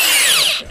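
A power drill whines briefly, a short loud burst that winds down quickly, with no talk over it.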